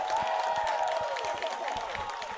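Crowd at a 2019 AUDL professional ultimate frisbee game cheering and clapping, a loud sustained roar with scattered claps and shouts, steady for the whole moment.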